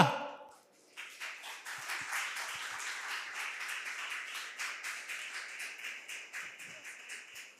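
An audience at a literary conversation with author Manoranjan Byapari breaks into applause after a brief pause, many hands clapping in a sustained, lively patter that keeps an even pace to the end.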